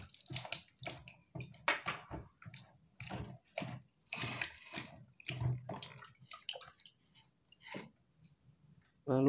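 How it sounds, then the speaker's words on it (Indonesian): Peeled ginger being washed clean in water by hand, with irregular splashes and drips close to the microphone and a steady faint high tone behind. "tinggal dicuci bersih ya teman-teman ya. Kita cuci bersih dulu."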